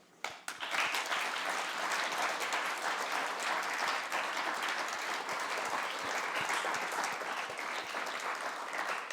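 Sustained applause from a concert audience at a school music event, dense steady clapping that starts abruptly and stays loud and even throughout, with no talking over it.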